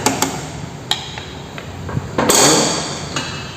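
A wrench tightening the nut on the contact points of a conventional motorcycle during a points tune-up, giving several sharp metallic clicks and taps, with one longer scraping rattle in the middle.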